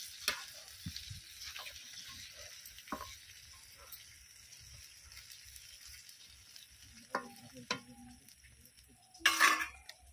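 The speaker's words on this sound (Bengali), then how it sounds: "জল দিয়ে এবার ভালো করে নেড়ে নেব।" Malabar spinach curry with fish head is stirred in a pan after water goes in: a quiet, uneven simmering hiss broken by scattered scraping knocks and a louder clatter of a spoon against metal near the end.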